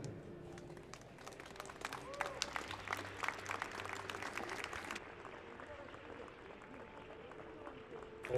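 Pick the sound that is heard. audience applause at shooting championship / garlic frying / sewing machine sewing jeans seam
audience applause at shooting championship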